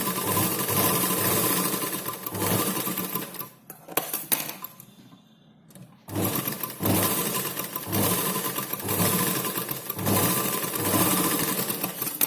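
A sewing machine stitches blouse darts in rapid, steady runs, clattering loudly, then pauses briefly before starting up again and running on.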